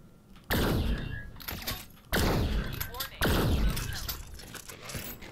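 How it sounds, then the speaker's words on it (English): Shotgun blasts in the VR game Vertigo 2, three heavy, booming shots spaced about a second or more apart, each with a long rumbling decay and scattered mechanical clatter between them. "surprisingly awkward to aim a shotgun, apparently."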